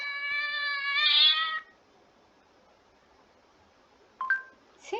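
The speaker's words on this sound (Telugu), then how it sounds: "క్యాట్." An animal sounds app plays one clear, drawn-out cat meow. A quiet stretch follows, then a couple of short electronic chirps.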